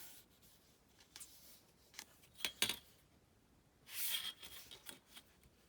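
Paper or card being cut to size with scissors in a quiet room, a few short snips and rustles, then a longer scraping cut, soft and close with no talking.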